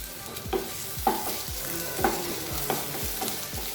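Ginger garlic paste cooks with onions in a pan for a sadya-style potato masala: a steady sizzle with rhythmic stirring scrapes about every half second, close and moderately loud.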